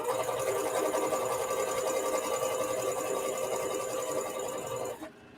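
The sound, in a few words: sewing machine back stitching a shirt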